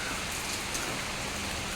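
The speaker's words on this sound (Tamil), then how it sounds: "இன்னைக்கு முழுவதும் மழை தான் போல் இருக்குது." Heavy rain falling steadily during a red-alert downpour, a dense, even hiss that is loud and close throughout, with no other sounds.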